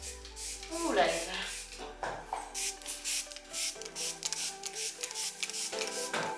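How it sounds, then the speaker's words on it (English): Several quick hissing bursts of grooming spray from a spray bottle onto a horse, mixed with rubbing and handling noises close by. "we are just gonna spray you over"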